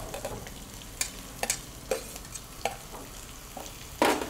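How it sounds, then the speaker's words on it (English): Cumin seeds, curry leaves and onions fry in oil over a medium flame, a steady close sizzle broken by sharp spurts and pops, with no voices over it. "some cumin seeds, let it spurt, few curry leaves, onions, medium flame"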